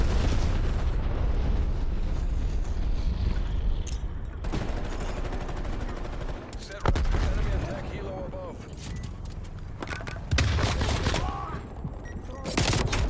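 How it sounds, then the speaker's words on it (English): Shotgun blasts and heavy gunfire from Call of Duty Cold War on the Nuketown '84 map, loud and nearly continuous with booming bursts, while someone talks over the action. "A shotgun."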